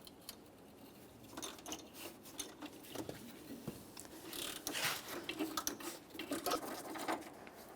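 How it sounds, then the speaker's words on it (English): A ratchet wrench backing out a single 10mm bolt from the horn assembly of a 1994–1997 Honda Accord, rapid clicking bursts and metallic ratcheting, close and moderately quiet, growing busier midway. "To continue removing the horn assembly, we'll be removing one 10mm headed bolt."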